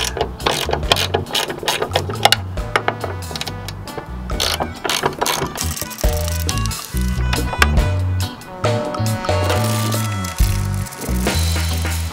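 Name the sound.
ratchet removing 10mm bolts from a BMW E30 trunk lid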